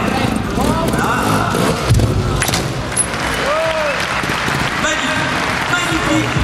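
Indoor crowd at a motorcycle trial event claps in a sustained wash of applause, with an announcer speaking over it on a loudspeaker and a motorcycle engine revving now and then.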